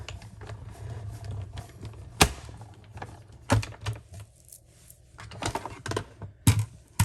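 A die cutting machine pressing a Paper Pumpkin card piece: a low rumbling mechanical drone under several sharp clicks and clacks as the plates pass through the rollers, fairly quiet and close.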